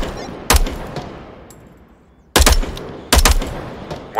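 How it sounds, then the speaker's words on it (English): An enemy machine gunner firing from a building in the VR shooter Onward: three loud, abrupt bursts of automatic fire spaced a second or two apart, each ringing out and fading, with no talk. "Got a machine gunner on the building on the right side."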